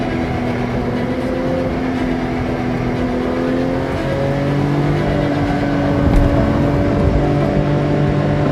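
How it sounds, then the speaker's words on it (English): A Porsche 911 reimagined by Singer (DLS) being driven, a continuous engine drone from inside the car with a rising and shifting pitch as it accelerates, loud and steady with road rumble underneath. "I'm having to consciously drive it like a 911. But it's got the performance of a modern Ferrari."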